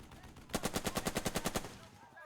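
A World War II tactics video game firing a rapid burst of about a dozen evenly spaced gunshots, close and fairly loud, lasting about one second.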